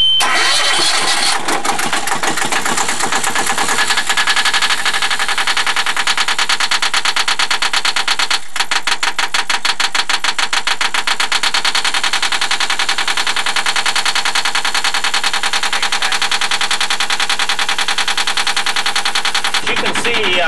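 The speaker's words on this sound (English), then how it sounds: "if you know anything about diesels, that's the way they sound" A diesel engine cranks over and fires up, then settles into a loud, steady, close-up running drone with a dense, rapid clatter that continues for many seconds, briefly dipping once before carrying on without any voices.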